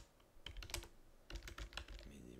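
Keystrokes on a computer keyboard while entering words into Excel spreadsheet cells, two quick bursts of clicky taps separated by a short pause, close and moderately quiet.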